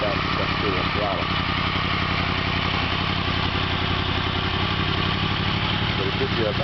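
A Yamaha FZ10 / MT10 motorcycle fitted with a Leo Vince exhaust rumbles steadily at idle close by, a constant loud, even engine drone with no throttle changes.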